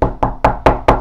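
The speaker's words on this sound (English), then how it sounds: "Knock on wood if you're with me." Five sharp knocks on wood in a steady rhythm about a fifth of a second apart, close and loud, with no talking.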